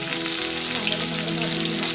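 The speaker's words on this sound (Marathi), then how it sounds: "तर यांच्यात कांदा टाकणार आहे." Chopped onion sizzling in hot oil with mung dal in a home kitchen pan; a steady, close, bright crackle with no talking.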